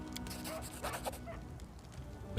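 A dog whimpers briefly and softly in the fantasy role-playing video game Pathfinder: Kingmaker, a few faint whines over a low game background.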